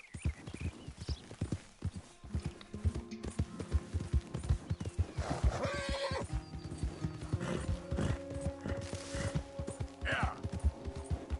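A horse in Red Dead Redemption 2 clip-clops along in quick rhythmic hoofbeats and gives loud whinnies at intervals. The game sounds are close and clear, with a voice briefly heard among them.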